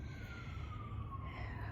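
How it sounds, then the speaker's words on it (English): A distant emergency vehicle siren on a freeway rises faintly and steadily through a low traffic rumble. It stays far off and quiet throughout. "There's a siren going by."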